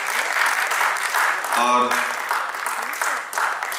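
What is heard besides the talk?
audience applause for theatre performers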